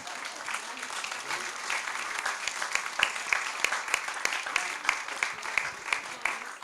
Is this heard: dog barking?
no